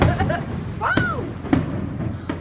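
A salute of fireworks goes off outdoors with a few separate booming bursts and a whistling streak between them, while people talk and exclaim close by.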